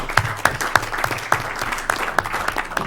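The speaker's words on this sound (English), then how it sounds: "let's give a round of applause to our two candidates" An audience at a candidate night gives a round of applause for two candidates, brisk clapping with distinct sharp claps standing out in a steady patter, close and fairly loud.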